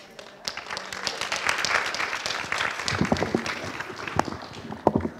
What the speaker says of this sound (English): Let's give a round of applause as well to Reverend Patrick Harbula.